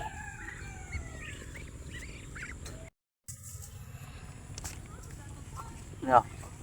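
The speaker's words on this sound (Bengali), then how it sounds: "মুরগি সব আয়ে পড়ছে" Chickens crowding close around a person in a rural yard cluck in repeated short calls, and a louder squawk rises near the end after a brief silent gap.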